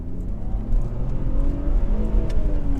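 Car engine revving under load with a slipping clutch, a loud, close, rising-and-falling drone with sweeping harmonics that holds steady throughout.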